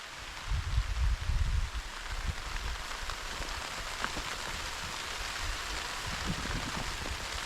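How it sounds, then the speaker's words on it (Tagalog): Sudden rain falls steadily outdoors on a farm where plastic mulch is being laid, a dense continuous patter with heavier low thuds early on, alone with no talk. "Ay biglang umulan po oh."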